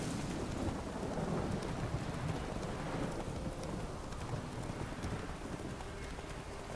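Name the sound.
thunderstorm with rain in the video game The Witcher 3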